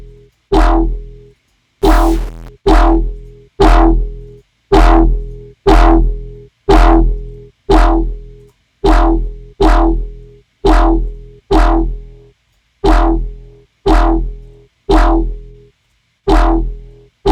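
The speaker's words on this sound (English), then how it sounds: "let's finish this off maybe with a little bit of distortion to kind of glue the sub with our sound." A synthesizer patch with distortion added to glue a sub bass to the sound plays as a loud series of about sixteen short, punchy notes in a regular rhythm, each with a sharp attack, a gritty buzz and a decaying tail.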